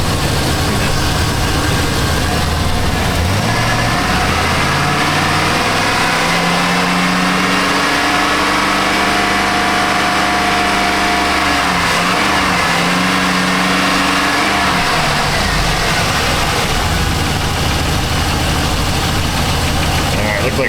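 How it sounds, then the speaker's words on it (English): Chevy 2500HD pickup truck engine with a rich-running fault idles, then is revved up and held higher several times before settling back. The engine is loud and close throughout. "I'm going to give it a couple rev up tune-ups to see if any of these O2 sensors become responsive."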